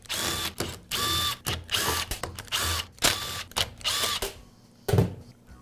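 Tool work while removing the side cover from a Troy-Bilt string trimmer's throttle trigger handle, with repeated short bursts of whirring drill-like driving and ratcheting clicks separated by brief pauses, close up.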